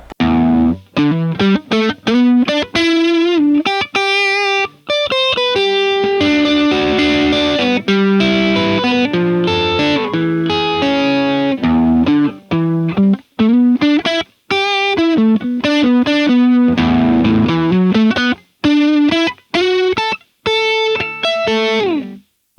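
Distorted electric guitar through an Overloud TH-U amp simulator on a phone, with a crunchy hard rock tone, plays a continuous riff of sustained notes and quick runs, loud and up front.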